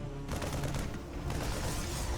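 Photon cannons firing in a StarCraft 2 match, a rapid run of overlapping shots and impacts over steady game noise, loud and continuous.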